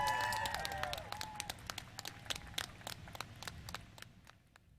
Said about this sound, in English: And one more round of applause for Mr.